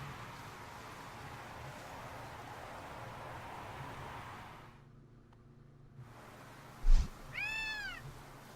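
A cat in the Gravity Rush video game gives a single clear meow near the end, after several seconds of quiet, hissy background game ambience.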